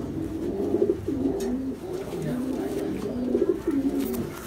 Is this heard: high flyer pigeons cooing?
yes